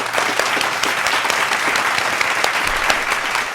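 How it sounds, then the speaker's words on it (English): A crowd applauds steadily during a music show, dense clapping holding at an even level throughout without any speech. "Let's give them a round of applause."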